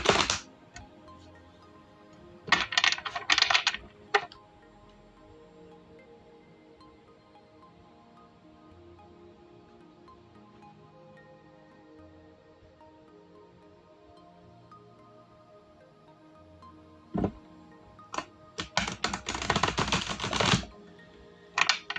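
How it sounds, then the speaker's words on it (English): Tarot cards being shuffled by hand, with crisp riffling bursts near the start and a longer flurry of rapid papery flutters near the end, separated by a long stretch of near silence. "you are going to see me practice shuffling the cards a lot"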